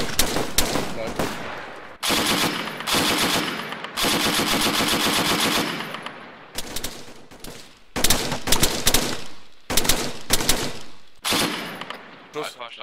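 Dense bursts of automatic and machine gun fire from the video game ARMA 3 rattle loudly and nearly without pause, long sustained volleys broken by brief gaps and scattered single shots.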